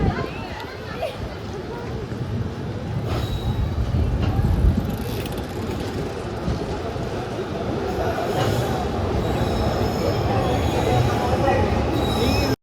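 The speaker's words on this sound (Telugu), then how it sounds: "మన ప్లాట్ఫామ్ నెంబర్ సెకండ్కి అయితే వచ్చింది అనమాట మన ట్రైన్" The Guntakal–Coimbatore train 16381 rolls into a station platform with steady rumbling and clattering wheels, a few faint squeals, while people talk nearby throughout.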